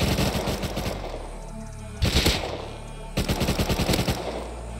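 Automatic gunfire from the survival game Rust comes in three loud, rapid bursts, each a dense stutter of shots with brief pauses between them and no talking.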